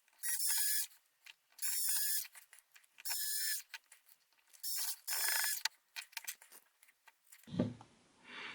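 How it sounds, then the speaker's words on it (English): Small electric screwdriver driving screws into plastic axle covers of a WPL C54 Toyota LC80 RC truck kit: five or six short whirring bursts with brief pauses between them, close and quiet, no speech. "I'll go ahead and bung some screws in that."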